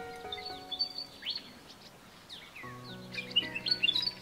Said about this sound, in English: And when you hear a flock of birds calling like this,